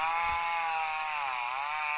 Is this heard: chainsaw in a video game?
yes